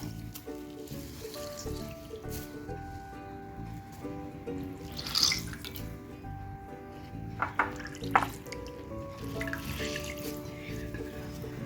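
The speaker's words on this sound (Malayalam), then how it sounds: "എല്ലാ ബ്രെഡും ഇതുപോലെ നമുക്കൊന്ന് ചെയ്ത് ഡിപ്പ് ചെയ്തിട്ട് നമുക്കൊന്ന് പിഴിഞ്ഞെടുത്ത് കൊടുക്കാം" Bread slices dipped in water and squeezed out while making a teatime snack, giving soft close drips and trickles with a few wet squelching bursts in the middle and toward the end, over a steady low background.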